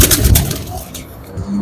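Red ice pigeons cooing softly at a Rawalpindi loft, a low murmuring coo under faint background noise, one brief lower coo near the end.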